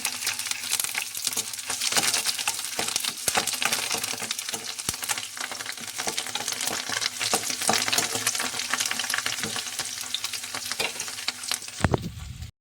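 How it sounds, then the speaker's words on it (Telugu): A tempering of curry leaves fries in hot oil in a pan, crackling and sizzling loudly up close with frequent sharp pops and bursts of spluttering, and a stirring scrape now and then near the end. "తాలింపు వేగుతుంది పెద్ద దీనిలో కరివేపాకు వేసుకున్నాను"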